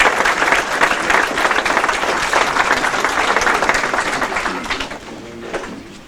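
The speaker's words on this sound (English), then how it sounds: "let's have a round of applause for that" Audience applause at a Hall of Fame induction ceremony, honoring committee members: dense, steady clapping from a full room that holds for several seconds, then thins and tapers off toward the end.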